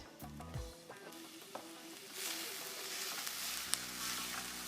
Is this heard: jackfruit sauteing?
yes